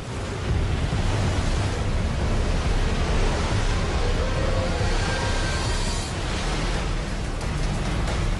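Surf washes over a stony beach where orcas hunt, a steady broadband roar of waves rolling stones, loud and continuous with a wind-like hiss and no speech.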